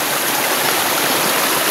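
Clear stream water rushes steadily over rocks near a waterfall, a dense, continuous broadband hiss and splash close by with no voices.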